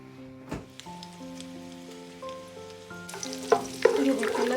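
Garlic fries in a pan for a gawar phali (cluster bean) dish, with a soft steady sizzle and occasional stirring clatter. Faint tonal sounds run underneath, and the frying grows louder and more crackly toward the end.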